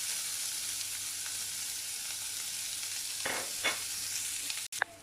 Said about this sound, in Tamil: ஒரு வெங்காயம் இந்த மாதிரி பொடியாக நீல வாக்கில் கட் பண்ணி வச்சுருக்கேன். ஸோ இதை வந்து நம்ம வந்து ஃப்ரை பண்ணி எடுத்துக்கலாம்.